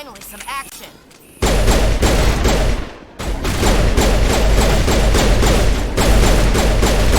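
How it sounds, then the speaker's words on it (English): Sustained gunfire in the sci-fi shooter Mass Effect, dense bursts of shots and impacts running almost continuously after a brief lull, loud and close, with voices talking over the fighting. "Ow, I'm being shot."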